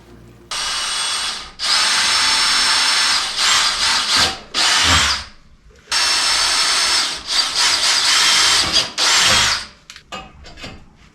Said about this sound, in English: We're just going to drill into that.